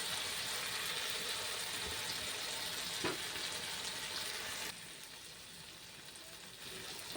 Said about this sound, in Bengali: চলো আলুটা ভালো করে ভেজে নিই